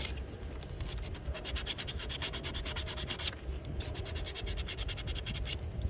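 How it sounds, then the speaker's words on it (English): Fine sandpaper rubbed back and forth over a car battery part on a Peugeot 5008, a steady close scratching in quick regular strokes with a brief pause near the middle, no talk. "Fine sandpaper, because you don't want to take the coating off it"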